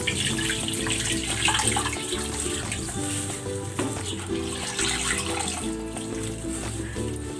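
Water pours from a tap into a cooking pot holding a one-kilo piece of raw pork belly, a steady loud gushing splash that continues close and alone throughout.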